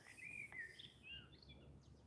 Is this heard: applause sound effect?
no